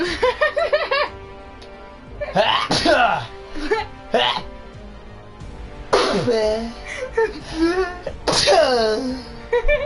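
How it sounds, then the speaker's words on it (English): A single sharp sneeze breaks out between bursts of laughter and giggling, with people talking and laughing around it, close and fairly loud. "hold on, I gotta sneeze."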